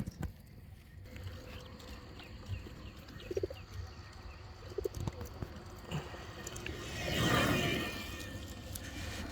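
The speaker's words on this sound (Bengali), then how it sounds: "আমার কবুতরগুলো ছাড়ার সময় আপনাদেরকে দেখাই" Racing pigeons are let go from a toss box during training, with a brief, loud flurry of wingbeats rising late and fading over a low, steady outdoor background with scattered small knocks.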